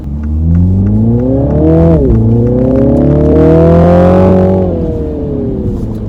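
A 2021 Mini Countryman JCW with a 306 hp engine revs hard in sports mode, climbing in pitch, dipping briefly at a shift, then surging again, loud and close with no talking.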